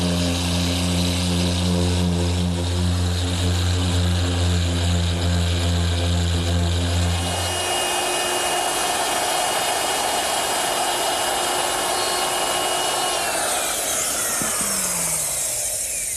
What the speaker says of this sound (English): using my random orbit sander to smooth up the edges of the tabletop